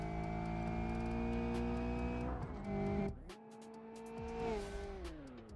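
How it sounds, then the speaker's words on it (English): Twin turbo drag car in the BeamNG Drive driving game, its engine droning high and steady, then dropping and surging as the locked brakes send it skidding sideways on a race track. "You touch the brakes, and it just locks the brakes and just send itself flying completely sideways."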